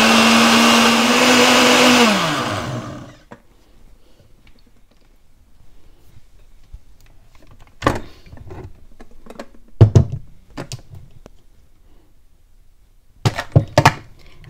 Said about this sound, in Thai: บีรูทเทใส่ลงไปเลยค่ะใช้น้ำเดิม แล้วก็ทำการปั่น